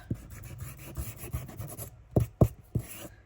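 Sandpaper rubbed over paper or card for a junk journal, a soft raspy scraping in short strokes, followed by a few louder close taps and scuffs near the end.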